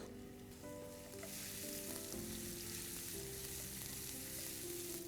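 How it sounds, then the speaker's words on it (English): Chopped garlic fries in a little extra oil for refried beans, giving a steady, dense sizzle that swells after the first second and holds close and loud throughout, with faint sustained tones humming underneath. "I'm using a little bit extra of oil, and then I'm adding my chopped garlic"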